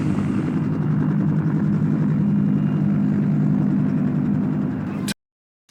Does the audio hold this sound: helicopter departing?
yes